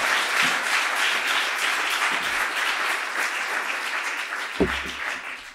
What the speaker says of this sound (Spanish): Vamos a recibir a Pablo con un fuerte aplauso.